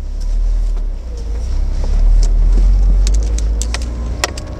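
A Mercedes-Benz SLK R170 roadster without a Kompressor, 134 brake horsepower, driving with the roof off, giving a steady low engine and road rumble with wind noise and a few faint clicks.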